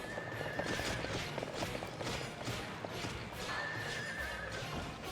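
Horse enemies in the video game Drakengard neigh and whinny while their hooves clop steadily, with a dense, busy battle din filling the background.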